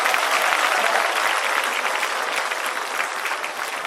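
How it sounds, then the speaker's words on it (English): A dense, steady wash of applause from a student audience at a college orientation day for second-year students, sustained at full strength throughout without voices rising above it. "Long round of applause."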